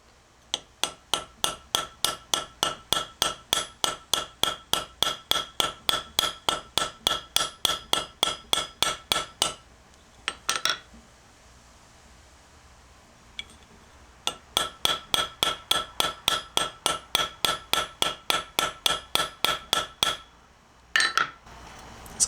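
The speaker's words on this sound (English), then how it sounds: "I'm going to get it set down into place with this ball peen, and then I'm going to fine tune it with this" Ball peen hammer tapping a pin into a forged drop point ring-tailed knife handle, a long steady run of sharp metallic strikes, then a pause with a few scattered taps, then another even run of blows, close and alone.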